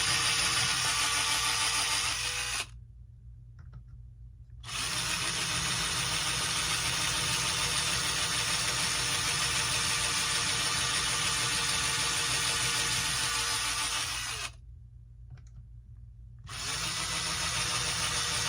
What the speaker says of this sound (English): Here's my drill going on.